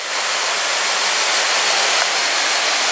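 Water pours down Çaylak Waterfall in a constant, dense, loud hiss of spray and rushing flow, heard up close without any talking.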